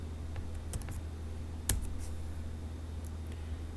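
Keys clatter sparsely on a computer keyboard while a spreadsheet formula is entered, with a few quiet, separate clicks and one louder tap over faint room hum. No one speaks.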